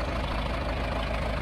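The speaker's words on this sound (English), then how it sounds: "I'm going to go ahead and use this tractor" A tractor engine idles steadily in a farming video game, a low continuous rumble with an even pulse, close and constant without a pause.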